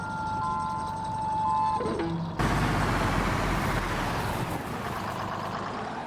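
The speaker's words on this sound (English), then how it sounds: "I like the backup beeping" A tow truck in the video game DayZ: steady high backup beeping pulses over an engine hum, then a loud rough engine roar and grinding rumble takes over for the rest of the clip.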